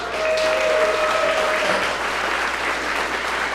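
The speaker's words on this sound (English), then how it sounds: "A round of applause for Hannah." Steady applause from an audience fills the whole stretch, a dense even patter of many hands clapping with no voices on top.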